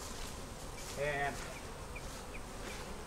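Honey bees hum around a backyard hive in South Carolina, a low continuous buzz close by, while someone speaks briefly over it.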